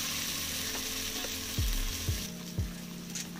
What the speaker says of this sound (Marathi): तर चांगला अद्रक लसूणची पेस्टही आपल्याला भाजायची